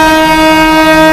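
A steam toy train engine on the Darjeeling line sounds its whistle, a loud, sustained, steady tone that fills the whole moment.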